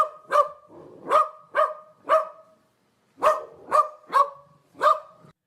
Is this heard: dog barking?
yes